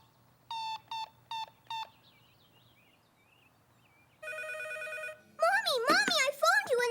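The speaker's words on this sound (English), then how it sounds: "Mommy, I phoned you and the phone rang." A toy-style telephone bell rings in four quick bursts, then after a pause a steady electronic tone sounds, followed by a warbling chirpy ring, clear and close in a quiet indoor scene.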